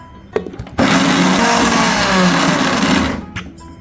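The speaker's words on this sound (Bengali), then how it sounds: "ভাবা যায় বাদাম ভর্তাও ব্লেন্ডারে করা সম্ভব" A kitchen blender grinds peanut mash for a Bangladeshi peanut bhorta, a loud, dense motor whir that kicks in abruptly, runs steadily for a couple of seconds, then winds down, with brief handling knocks before and after.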